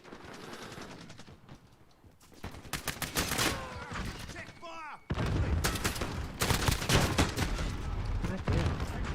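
Shotgun blasts and other gunfire in a first-person shooter video game, sharp repeated bursts that come in clusters and grow louder and denser partway through, with a player talking over parts of it.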